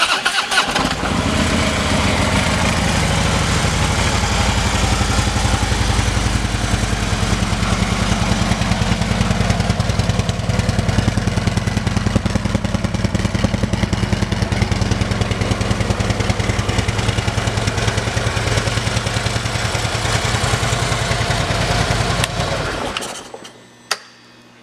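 A 2014 Harley-Davidson Electra Glide Ultra Limited motorcycle idles loudly and steadily through its exhaust with a deep, even rumble for over twenty seconds before the engine cuts off abruptly.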